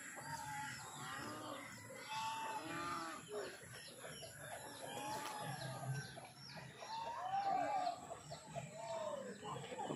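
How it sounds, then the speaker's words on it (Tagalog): Several chickens cluck and squawk close by, with overlapping calls and a rooster-like crow among them over a busy farmyard background. "Marami dito yung mga manok na alaga"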